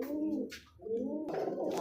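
A male pigeon coos close by, two soft, low throaty coos split by a short pause, with no other sounds around them.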